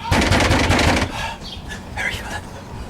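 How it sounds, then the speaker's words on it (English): Loud rapid banging hammers on a door for about a second, then stops, leaving quieter room sound with voices in the background. "Banging on my door like you the police"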